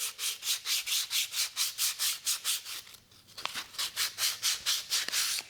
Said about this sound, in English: you're just going to go along the edge, right on the edge, and you're just going to barely sand it just a little bit